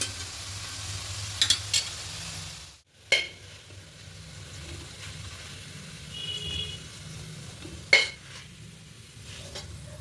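Spiced potatoes fry in a pan over high heat with a low steady sizzle, broken by a few sharp clinks and scrapes of a utensil stirring against the pan and a brief pause midway.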